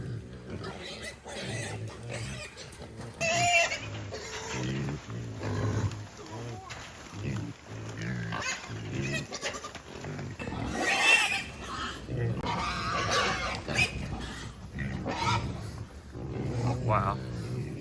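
Wild hogs grunt and squeal inside a trap, with low rough grunts repeating close by and people talking over and between them.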